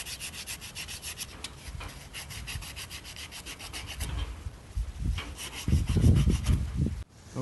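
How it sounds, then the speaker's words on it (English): Emery cloth rubbed back and forth over a steel auger shaft, making steady, rhythmic abrasive strokes that grow heavier and louder toward the end, close and alone. "What I'm using is some emery cloth. Sandpaper works just as well."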